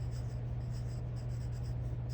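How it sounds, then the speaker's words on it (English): A pencil or pen writing a name and room number on a sheet of paper during a classroom drawing lesson, a soft steady scratching that runs continuously under a low background hum. "you're going to write your name, and you're going to write your room number"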